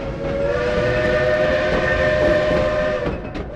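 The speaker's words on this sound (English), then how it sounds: "the old Baldwin steam engine pulling a load of sightseers across the mountain passes and canyons of northern New Mexico and southern Colorado" Old Baldwin steam locomotive on the Cumbres and Toltec Scenic Railroad, a mountain line in northern New Mexico and southern Colorado, sounding a loud, steady whistle over continuous rumbling train noise, held for several seconds without talk.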